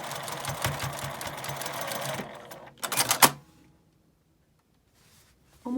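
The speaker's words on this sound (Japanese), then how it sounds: "このポケットのあたりにタブをつけて一緒に縫います。" A sewing machine stitches a tab onto a key case in a fast, close, rattling run for about two seconds, then a short second burst, followed by near silence.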